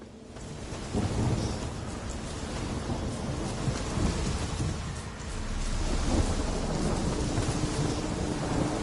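A thunderstorm in The Witcher 3 rumbles with deep rolling thunder over steady heavy rain and a soft wind, loud and continuous throughout with no voices.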